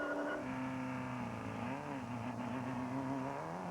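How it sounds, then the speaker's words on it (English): A four-wheel-drive, mid-engine Class 1 desert race car engine runs with a rough, uneven misfire, a droning wavering tone that sags and recovers, steady and fairly loud with no voices. "It sounds like it has an engine miss there."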